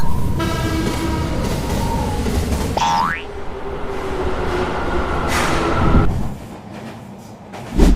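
Metro train sounds at Dum Dum station in Kolkata: a rising electronic chime, rumble from the platform and a hiss that swells and fades, with no talk.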